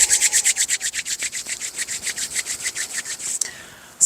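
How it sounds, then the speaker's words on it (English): Hands rub briskly together in a fast, even back-and-forth rhythm of about twenty strokes, close and clear with no talking, then stop abruptly. "And rubbing the hands one more time."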